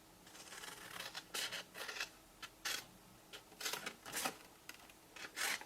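Card stock being cut for a rectangular lidded box with an acetate lid, making a series of short crisp snipping and rasping strokes in irregular bursts, fairly close and quiet with no talk.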